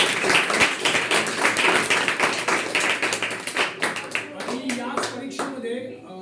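Loud, dense applause from a school audience cheering Swami Vivekananda school students in a classroom, with rapid overlapping claps filling the room, then thinning into a few scattered claps near the end.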